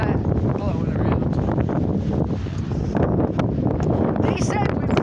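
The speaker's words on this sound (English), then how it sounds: "You can see how windy it is from that blowing around." Strong winter wind gusts buffet the microphone and rustle a pinyon tree, a loud, uneven roar that swells and dips, with a voice speaking beneath it.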